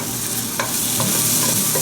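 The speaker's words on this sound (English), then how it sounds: "We'll add the garlic to this." Minced garlic hits a pan of softened onions and sizzles loudly and steadily, with a few scraping stirs breaking through the dense hiss.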